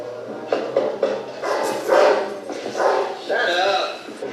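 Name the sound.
dog barking in TV show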